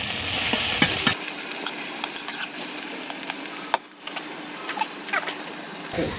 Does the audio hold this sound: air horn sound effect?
no